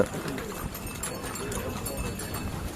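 Horses' hooves clip-clopping along the Amarnath Yatra pilgrimage path from Baltal before dawn, a steady patter of hoofbeats amid crowd bustle and chatter.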